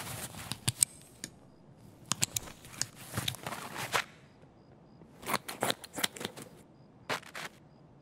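Magazines are loaded in Escape from Tarkov: quick bursts of metallic clicks and snaps come in uneven clusters, fairly faint and close.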